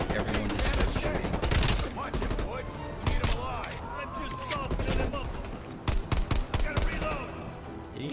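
Heavy gunfire in Call of Duty: Black Ops Cold War, bursts of rapid automatic shots and sharp single cracks, loud and close, with a voice talking over parts of the firefight.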